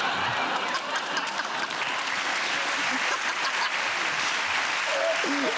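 TV studio audience on a comedy panel show breaking into sustained applause, a thick, even roar of clapping that holds steady, with a brief voice surfacing near the end.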